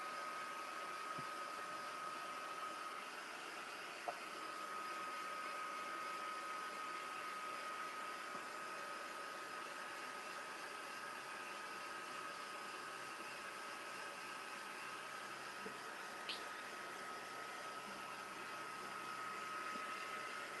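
A drying tool blows steadily over mixed media artwork, a constant, fairly faint whooshing hum that runs unbroken throughout with no talk.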